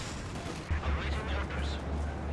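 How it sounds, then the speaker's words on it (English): Panzerwerfer rocket artillery firing in the Company of Heroes 2 video game, a low sustained rumble of launches and impacts rising after a brief lull and rolling on steadily at moderate loudness. "Panzerwerfer with another nice shot here, it looks like, on the mortar and Maxim."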